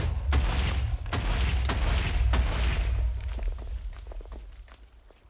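TNT blocks exploding in Minecraft, a series of deep booming blasts with sharp cracks in quick irregular succession, loud at first and gradually fading and thinning toward the end.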